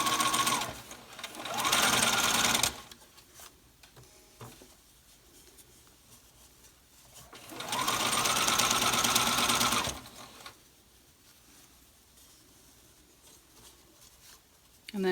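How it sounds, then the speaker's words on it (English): Sewing machine backstitching over elastic on a fabric face mask: two bursts of rapid close stitching, each a few seconds long, separated by quieter handling of fabric. "be sure to backstitch over the elastic to make sure that it's very secure."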